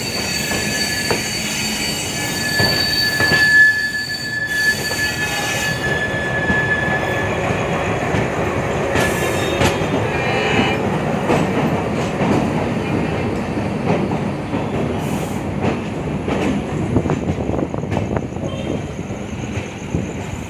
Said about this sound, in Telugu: ఈ ట్రైన్ LHP కోచ్ కాబట్టి మ్యాక్సిమం పర్మిటబుల్ స్పీడ్ వచ్చేసి 120-130 దాకా ఉంటుంది